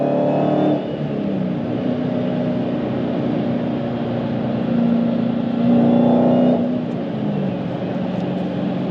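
Supercharged Dodge Challenger Hellcat V8 with a manual gearbox accelerating hard, a loud, steady engine roar swelling as revs climb, with a brief dip around a gear change and a renewed surge toward the end, heard from inside the car.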